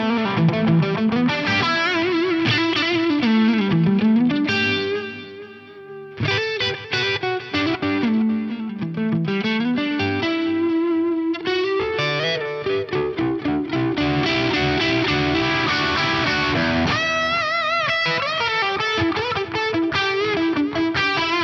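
A distorted electric guitar plays chords and melodic lines through a Fractal FM3 echo room reverb with added pre-delay, so each phrase trails into a roomy, echoing wash.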